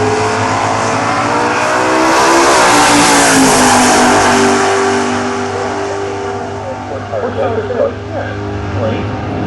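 A race car engine at an Orlando race roars loud and close, its pitch climbing as it revs and accelerates, then easing off with some clatter, under a voice talking.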